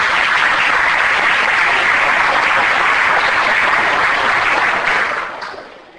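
Audience applause fills a hall after the crowd is asked to clap for guests who travelled a long way, dense and steady clapping that holds for about five seconds and then fades away near the end.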